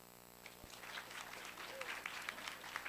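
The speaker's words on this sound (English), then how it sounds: "So please join me in welcoming Kevin Ralph." Audience applause welcoming a speaker at a student-organized debate forum, a steady wash of many hands clapping that swells and holds for the full few seconds, with faint crowd murmur underneath.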